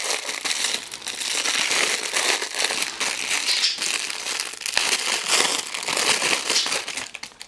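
Amazon parcel packaging being opened to get at a pair of paintbrushes, with a close, continuous crinkling and crumpling of plastic wrap that goes on steadily with small crackling bursts throughout.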